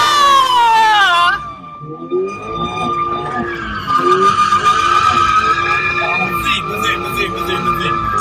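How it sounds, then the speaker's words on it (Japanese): Toyota ZN8 sports car drifting with its tyres skidding and squealing loudly at about 4000 rpm, a sustained screech over engine drone, with people talking throughout. "結構ね、馬力あるで4000回転でも滑ってくよ。"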